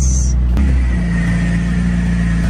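A car engine idles and rumbles steadily, loud and close, as the car pulls into a home garage after nearly breaking down during a storm; a short clunk sounds near the start.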